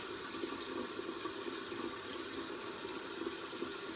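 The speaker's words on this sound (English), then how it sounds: "Okay, so I've got that rinsed off really good." Tap water running steadily into a sink while face cleanser is rinsed off, a continuous close hiss and splash with no talking.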